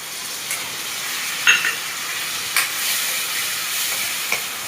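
Chickpeas, peanuts and chopped tomato fry in a pan with a steady, close hiss of sizzling oil, a few soft scrapes of stirring breaking through.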